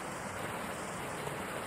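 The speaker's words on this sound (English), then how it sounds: "It's just a waterfall." A video game waterfall roars in a steady, dense rush of falling water, constant and fairly loud with no pauses or voices.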